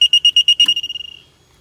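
A septic tank aerator alarm sounds a rapid series of loud, shrill electronic beeps that merge into a tone and then fade as it is silenced.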